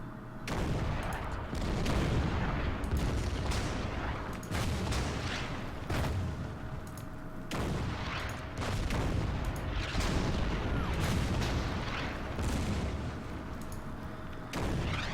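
Repeated artillery fire in the Order of Battle strategy video game, during the Ardennes offensive, with heavy booms and crackling blasts coming in irregular bursts, loud and dense throughout.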